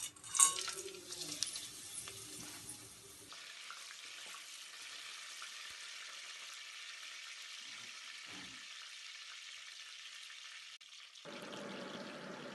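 Whole spices for mutton biryani, among them stone flower, kasuri methi, pepper, cinnamon, cloves, cardamom and bay leaf, sizzle and crackle in hot oil, a quiet steady frying hiss after a few stirring clatters at the start.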